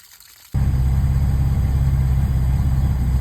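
An inboard boat engine, fed by a running garden hose for winterizing, cranks and catches after a brief quiet moment, then settles into a loud, steady, rumbling idle.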